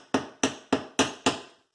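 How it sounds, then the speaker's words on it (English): Five sharp metallic strikes punch into a stainless steel sink corner in an even rhythm, each a hard close impact with a short ringing decay, with no talk. "I'm going to punch a hole here in the corner of our fancy"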